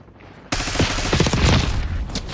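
Sustained automatic gunfire from Black Ops 6 free-for-all multiplayer bursts in loud and close after a quiet half second, rattling continuously with dense rapid shots to the end.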